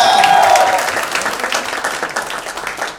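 Audience at the 2016 Fandom Awards with Shahrukh Khan bursts into loud, dense applause and cheering that starts strong and slowly tapers over a few seconds.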